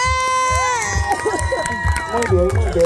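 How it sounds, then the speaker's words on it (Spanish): A crowd at a contest loudly cheers and shouts for soldier number one, with whoops and sharp shouts rising over a steady roar while voices call out. "Aplauso para el soldado número uno."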